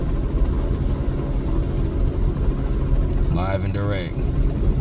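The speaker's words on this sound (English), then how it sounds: "Helicopter about to take off." A helicopter taking off, heard nearby as a loud, steady rotor and engine roar throughout, with someone briefly speaking over it near the end.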